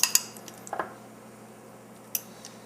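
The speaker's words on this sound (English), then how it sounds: "So let's mash those up with a fork." A fork mashing ripe bananas in a bowl for banana bread: a few sharp metallic clinks and soft squishy presses, scattered and close, with quiet gaps between them.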